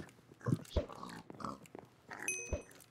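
Cartoonish pig squeals and grunts from a party video game, coming in a few short bursts over lively background game sounds, with players talking over them.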